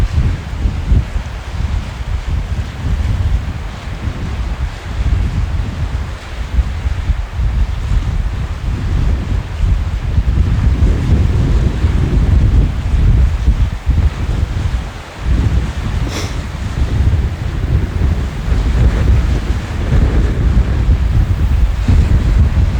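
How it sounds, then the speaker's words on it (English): Strong wind buffets the microphone on a rugged coastline while waves surge beneath it, a loud, constant rumbling roar that swells and eases without any voices. "The wind is blowing this way"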